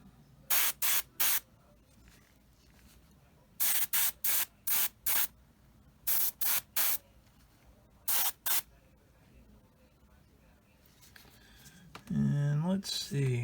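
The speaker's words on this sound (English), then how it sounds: "I just mixed some up with some X28 thinner. So I'll spray all this stuff." Short bursts from an airbrush spraying Tamiya XF63 German grey thinned with X28, coming in quick clustered pulses with quiet gaps, followed by a brief voice at the end.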